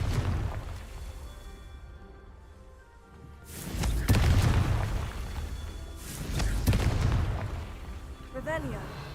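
Two heavy explosive blasts from the Confringo fire spell in Hogwarts Legacy, each a deep booming burst that trails off, following a quieter stretch of game ambience and a brief spoken incantation.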